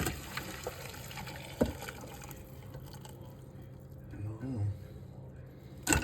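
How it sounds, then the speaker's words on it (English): Soft pouring and trickling of dove stock being strained through a kitchen strainer into a bowl, faint and close with quiet splashes. "Now we're going to strain it using your typical strainer."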